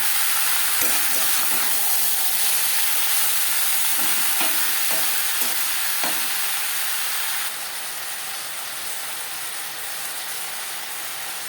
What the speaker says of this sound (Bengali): কাঁঠালের দানার সাথে ডাঁটা বেশ ভালো করে মিক্স করে দেবো